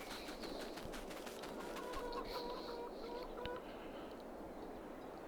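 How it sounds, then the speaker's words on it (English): Chickens in Farming Simulator 22 on a farm, soft clucking and brief calls spread through the clip beneath a steady, hissy ambient bed, faint and somewhat distant. "let's also go see how the chickens are doing"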